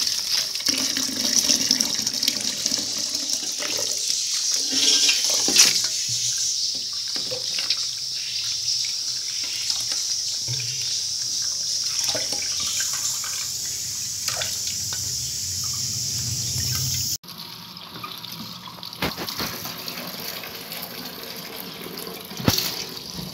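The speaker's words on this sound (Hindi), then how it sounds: "साग हमने काट लिया, अब हम इसको अच्छी तरह से धो लेंगे।" Water runs steadily from a tap for a long stretch while chopped mustard greens are washed, a continuous rushing splash that drops in level partway through, then carries on more quietly with a few clinks.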